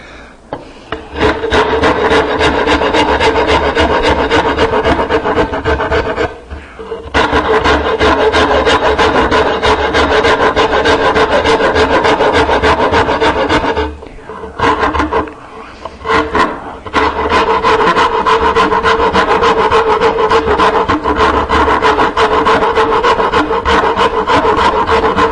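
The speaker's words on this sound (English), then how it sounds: "This is a cabinet maker's rasp. It's a Nicholson. I got number 49." Nicholson number 49 cabinet maker's rasp filing wood while a knife caddy is shaped, loud, fast rhythmic rasping strokes in continuous runs, broken by a few short pauses.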